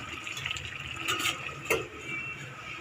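Fish curry simmers in a covered pan, a faint, soft bubbling and watery gurgle with a few brief louder pops partway through, heard alone.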